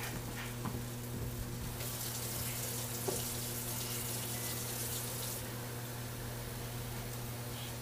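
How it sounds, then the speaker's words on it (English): Water runs steadily from a tap for several seconds, a hissy stream over a constant low hum, then eases off, as water is added for a vegan étouffée. "Now to this, we're just gonna add some water."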